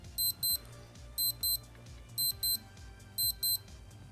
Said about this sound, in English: So we can test this alarm by pressing and holding the bottom right button.